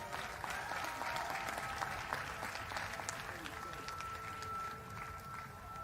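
Audience applause at a Howard University graduation ceremony, a steady dense wash of clapping from a large crowd that holds for several seconds, with faint voices and a sustained tone underneath.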